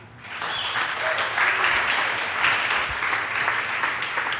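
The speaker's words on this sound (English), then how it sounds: "give a big round of applause for our last speaker this evening" An audience at an evening tech talk event in New York breaks into applause for the final speaker, a clatter of clapping that swells quickly and holds steady throughout.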